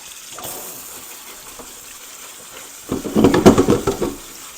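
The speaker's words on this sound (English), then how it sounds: "I'm just going to go ahead and drain them. And then I'm going to just give them a quick rinse" Soaked beans drained and rinsed: a faint trickle of water at first, then a louder burst of gushing tap water splashing into the sink near the end.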